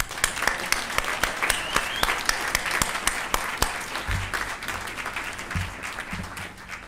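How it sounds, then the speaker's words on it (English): Audience applause for graduates at a graduation ceremony, with distinct individual claps standing out early and then a softer sustained patter, while a low hum or rumble enters toward the end. "So another round of applause."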